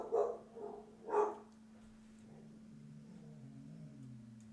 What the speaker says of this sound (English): had a little dog barking and dog barking in the background